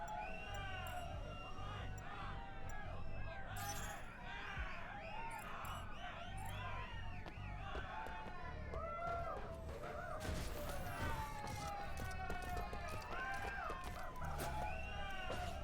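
A dense crowd cheers and shouts without a break at fights in the game Anno: Mutationem, a loud wash of voices with whoops and rising calls over a steady background.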